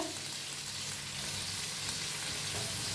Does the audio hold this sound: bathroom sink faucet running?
no